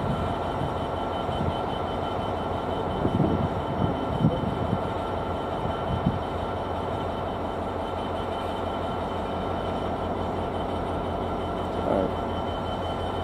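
A steady, loud rumble of a train passing non-stop through platform 3 at Peterborough station, with occasional clanks and rattles, continuous throughout with no talking.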